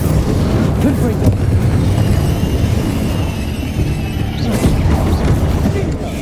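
Spell blasts in the Hogwarts Legacy video game, including the fiery Confringo curse, make a loud continuous roar of booms and crashing impacts with rumbling debris and a few sharp bursts near the end.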